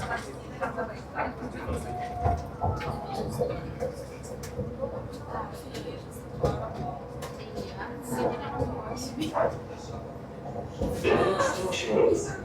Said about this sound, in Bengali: ট্রেন ধীরে ধীরে ছুটতে শুরু করলো।